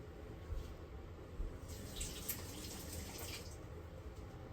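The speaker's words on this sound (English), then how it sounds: "Just want to rinse it off a little bit" A kitchen tap runs as something is rinsed under it during meal prep, a faint steady hiss of water with a slightly louder splashing stretch in the middle.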